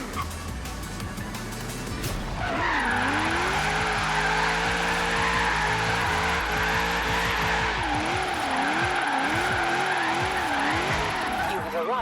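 A car in the video game Forza Horizon 3 drifts, its engine note rising and falling in wavering sweeps over a sustained high tire squeal, loud and continuous after a short lower-engine start.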